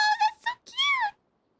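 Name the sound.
cat meowing in the video game Genshin Impact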